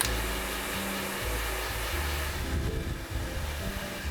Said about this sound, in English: then you warm everything up with the hair dryer.